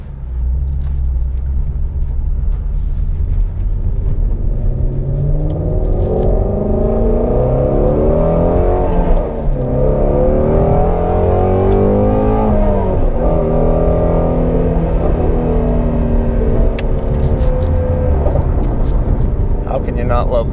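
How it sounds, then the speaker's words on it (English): Exhaust of a 2016 Ford Mustang Shelby GT350 with valves open in sport mode, a loud, deep engine roar that climbs and falls through repeated revs while driving, with someone talking over it. "Exhaust open in sport mode."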